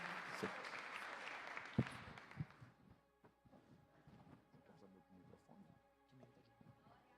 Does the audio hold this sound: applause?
yes